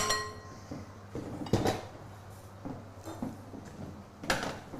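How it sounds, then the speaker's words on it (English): Fishcake mixture being mashed in a bowl, with irregular clinks and knocks of a utensil against the bowl, several sharper taps among softer scraping, close by with no talk. "I'm just going to mash it in the bowl that we're going to mix everything together in"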